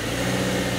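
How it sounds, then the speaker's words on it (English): Subaru Crosstrek engine running steadily as it drives up ramps with X mode off, a continuous low droning hum with no voices. "let's try driving up the ramps with X mode off."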